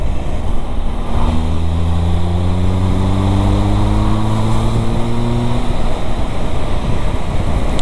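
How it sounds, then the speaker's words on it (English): A Triumph Tiger Sport 1050 motorcycle engine revs up steadily, its pitch climbing for several seconds as it accelerates, loud and close, with no talking. "That engine just sounds fantastic when you open it up."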